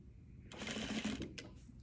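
A sewing machine runs a short back stitch along a collar seam, a quick close mechanical whir lasting under a second, then a brief second burst, fairly quiet overall.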